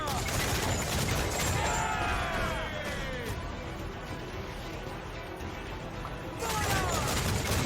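Ship cannons fire in Assassin's Creed IV Black Flag as a loud opening volley of booming blasts, then a quieter stretch and a second burst of firing, with shouting crew voices mixed in.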